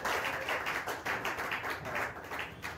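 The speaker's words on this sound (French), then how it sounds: "s'il vous plaît, acclamez sa présence" Church congregation applauding a pastor, steady rhythmic clapping from many hands throughout, fairly even and continuous, no talk over it.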